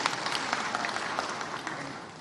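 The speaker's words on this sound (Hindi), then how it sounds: "तालियां बजा के बहनों का स्वागत करो" A crowd at a government outreach event applauds to welcome women from a self-help group, a soft, continuous patter of many hands heard from a distance, steady for the whole stretch.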